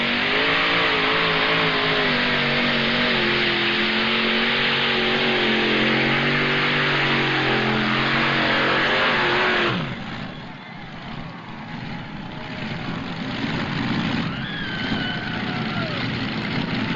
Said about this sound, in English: 540 cubic inch KB Heavy powering this modified tractor.